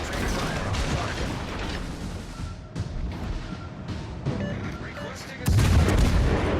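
Ship artillery fires at a target during a Tier 6 ranked naval battle featuring the cruiser York, with repeated booming gunfire over mechanical game noise that swells into a heavy blast near the end.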